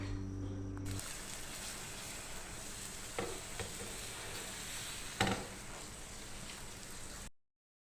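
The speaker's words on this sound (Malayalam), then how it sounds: "അങ്ങനെ ഞാൻ ഓംലേറ്റും പൊരിക്കുകയാണ്" An omelette fries in a pan on a home stove, giving a steady broadband sizzle throughout, with a couple of brief louder clicks or stirring scrapes near the middle and no talking.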